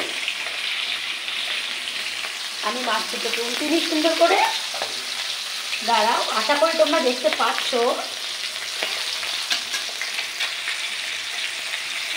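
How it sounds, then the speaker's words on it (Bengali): Two katla fish fry in a pan with a steady, close crackling sizzle that runs throughout, while a voice speaks over it in two short stretches. "আর এই মাছ দুটো ভাজা করবো"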